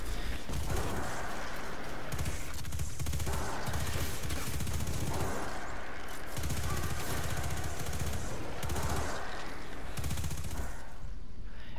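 Rapid automatic gunfire in the video game Destiny while farming kills comes as dense, continuous bursts of shots with layered impact noise, loud and sustained throughout.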